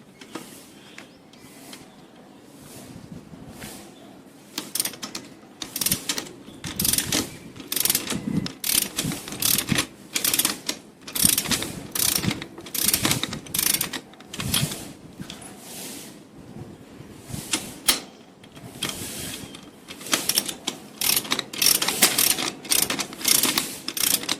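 A wrench works loose the 24 mm rear axle nut on a Royal Enfield Interceptor 650 motorcycle, making repeated close clicking and ratcheting bursts in uneven clusters that grow busier as the nut turns, with no talking.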